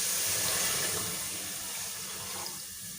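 Water poured from a container into a pan on a stove while sugar syrup is being made, a steady, close rushing splash that tapers slightly toward the end, with no voices.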